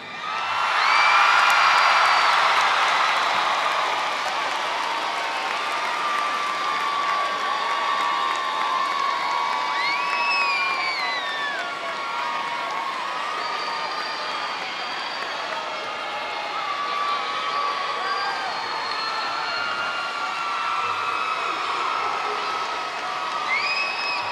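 A 2012 eighth-grade graduation crowd at H. Grady Spruce High School cheers and applauds after the caps are thrown. Whoops and high shouts rise over a loud, continuous roar that eases slightly but keeps going.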